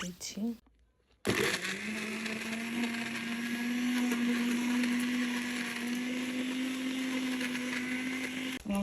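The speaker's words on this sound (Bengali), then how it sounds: "এই যে এখন ব্লান্ডারটা আমি চালু করে" A kitchen blender whirs steadily as it blends chili, onion and garlic for a spicy chili mash, a loud continuous motor drone that starts after a brief gap and runs to the end.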